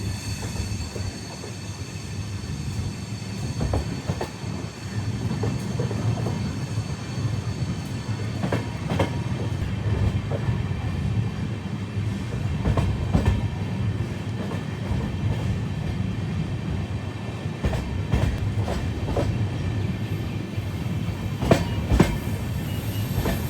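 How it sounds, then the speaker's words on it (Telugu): An AC suburban local train near Chennai rumbles steadily along the rails, with a continuous low roar and occasional clicking rattles from the wheels throughout, no voices present. "AC local train."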